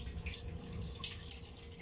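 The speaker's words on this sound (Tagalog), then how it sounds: "Dagdagan mo pa ng tubig na marila." Water runs steadily from a tap or hose as a bath is filled, a soft continuous splashing and trickle at low level with no talk.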